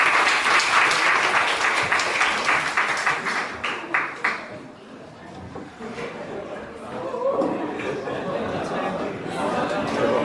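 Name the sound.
audience applauding a speaker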